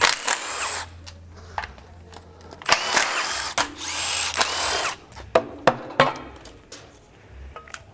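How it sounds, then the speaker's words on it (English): A power tool rattles out bolts near the timing cover on a BMW M54 engine during teardown, several short whirring bursts mixed with sharp clanks and metallic clatter, close and loud in a quiet workshop. "I gotta take these bolts out here because these go into the timing cover."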